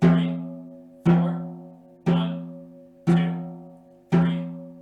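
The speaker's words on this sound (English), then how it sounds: "play this rhythm 2 times in a row on our snare drums" Snare drum struck in a steady beat, five evenly spaced hits about a second apart, each ringing with a sustained tone that fades before the next; close and clear with no talking.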